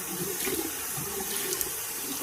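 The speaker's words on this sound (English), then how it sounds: "If I was in here running water on my rag, right, you would hear a breakup of water like this." Water from a bathroom tap runs onto a rag, giving a steady, broken splashing hiss at moderate level with no voices.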